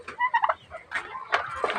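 Turkeys gobble near the microphone in several rapid, warbling bursts, with some calls overlapping.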